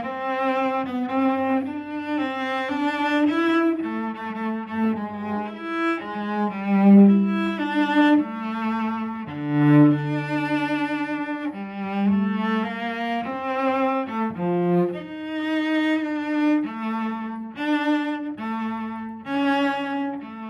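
Solo cello plays a Jazz Waltz audition excerpt at forte, with swung eighth notes in a lilting triple-meter melody that moves between low and middle registers, steady and unaccompanied, with no talking.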